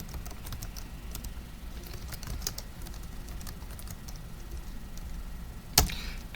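Keystrokes tapping on a computer keyboard, a scattered run of light clicks at a steady quiet level, with one sharper, louder tap near the end.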